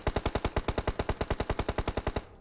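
Rapid automatic gunfire in a PUBG Mobile match, a fast even burst of about twenty loud shots in a steady rhythm, close and with no talk over it.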